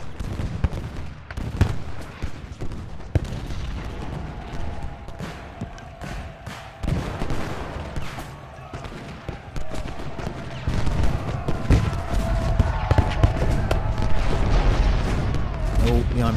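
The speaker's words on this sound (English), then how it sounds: "The Iron Brigade are under cannon fire" Cannon and musket fire rolls through a Gettysburg battle in the strategy game Ultimate General: Gettysburg, with repeated booms and crackling volleys building toward the end, someone talking over the gunfire.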